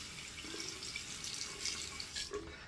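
Water runs faintly from a tap, splashing and dripping while Noble Otter Jack shave soap is lathered, with a steady trickle and a few louder splashes.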